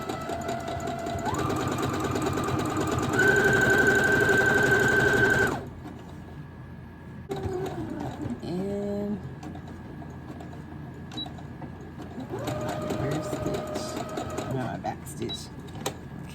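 A sewing machine top stitches fabric for costume ears, running in steady bursts that stop and restart as the fabric is turned, close and loud with a pause between runs.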